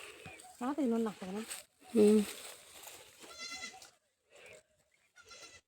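Goats bleating nearby on a rural homestead, several loud wavering bleats in short bursts separated by quieter gaps with faint rustling.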